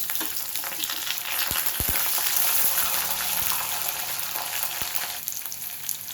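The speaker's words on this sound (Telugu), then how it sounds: "ఉల్లిపాయలు, పచ్చిమిరపకాయలు, చిన్న అల్లం ముక్క ఇవి కూడా వేసి బాగా వేయించుకోవాలి." Sliced onions, green chillies and a small piece of ginger fry in hot oil in a pan, a steady broad sizzle with a few sharp pops and spatters standing out partway through, no voices.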